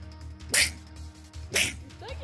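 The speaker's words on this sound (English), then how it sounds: "And now I get a sneeze!" Two sharp sneezes burst out about a second apart over a low steady hum, with a faint vocal trace trailing after the second.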